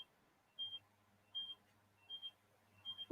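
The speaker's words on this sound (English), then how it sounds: "there's an alarm going off." An electronic alarm beeps in a steady repeating pattern of short double tones, four times at even intervals, moderately loud in an otherwise quiet room during a live crafting session.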